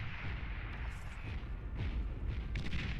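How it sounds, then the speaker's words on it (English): Two battleships firing on a target in Beyond All Reason, producing a steady low rumble of artillery with several sharper booming impacts, fairly quiet and in the background. "as there's now 2 battleships firing on him, as well as a 3rd coming in from the side"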